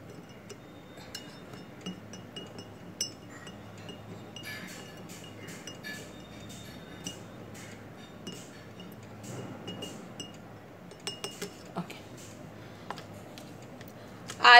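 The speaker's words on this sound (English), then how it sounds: "I'll take spoon, okay, and I'll mix both of them" A spoon stirs asafoetida (hing) samples in glasses of water, giving faint, scattered light clinks and taps against glass over a quiet background.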